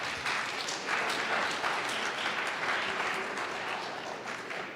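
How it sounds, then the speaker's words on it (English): An audience at a poetry recitation finals claps in sustained, even applause, a dense crowd patter holding steady before easing slightly at the end. "A round of applause for them, please."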